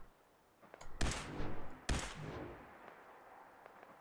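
Two sharp gunshots from a scoped rifle in Fallout 4, spaced about a second apart, loud and close, each trailing off into a ringing decay over quiet background ambience.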